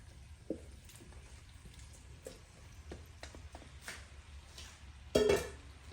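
Shrimp and vegetables stirred in a pan give faint scattered scrapes and clinks of a utensil against metal over a low sizzle, with one louder clatter near the end.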